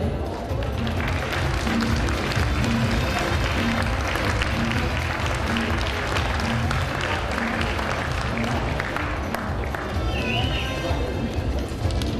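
An audience at the Miss Beaujolais 2011 pageant applauds the arriving jury members, the dense clapping continuous and fairly loud under a steady musical backing with a repeating low tone.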